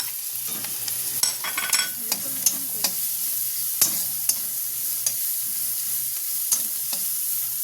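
Rice frying in ghee with grated ginger and a little turmeric, a steady close sizzle broken by repeated scraping stirs of a spatula against the pan.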